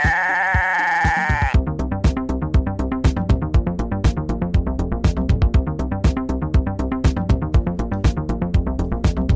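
A goat bleats, after which a rapid, loud, evenly pulsed bleating sound repeats continuously for several seconds, alone without talk.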